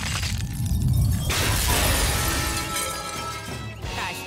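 A cartoon glass castle shatters in a loud, sustained crash of breaking glass, with bright tinkling shards scattering and ringing out over several seconds.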